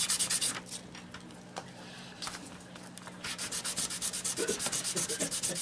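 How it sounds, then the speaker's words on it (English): Sandpaper rubs along the edges of a stacked set of model rocket fins for a Viking build, rapid back-and-forth strokes that come close and steady, pausing briefly in the middle before resuming in a quick, even rhythm. "put all 5 or all 3 or however you're using into a stack like this with your sandpaper. I have Sand down the edges."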